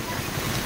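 A vehicle pushes through a flooded road during a record downpour in Otur, throwing up waves; a brief, loud, broad rushing wash of water with wind-like roar, close to the microphone.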